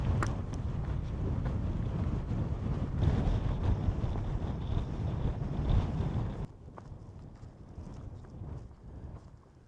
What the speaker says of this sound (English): Oh, so is the wind.